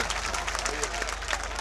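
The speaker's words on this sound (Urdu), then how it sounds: "میں چاہتا ہوں کہ یہ شہر ان کا تالیوں میں استقبال کرے" An audience claps to welcome a poet at an all-India mushaira and kavi sammelan in Gorakhpur, a thick, continuous patter of many hands with a voice talking over it.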